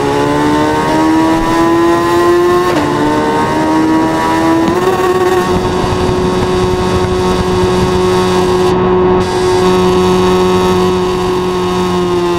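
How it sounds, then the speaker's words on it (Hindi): A 2024 Suzuki Hayabusa motorcycle howls loudly at high speed on a highway, its exhaust drone rising through two quick gear shifts and then holding a steady, sustained high-revving tone. "एग्जॉस्ट का साउंड सुन रहे हो भाई तुम, किस तरीके से आ रहा है भाई"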